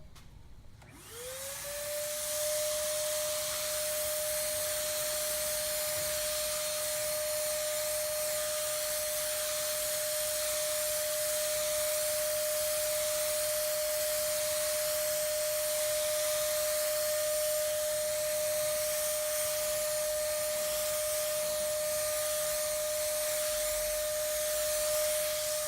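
Paint sprayer laying down a wet, heavy coat in one long continuous hiss, loud and close, with a steady high whine from the compressor and no voices.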